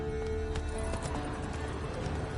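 Horse hooves clip-clop in a steady trot within The Witcher 3 video game, a quick rhythmic series of close hoofbeats over a constant ambient game background.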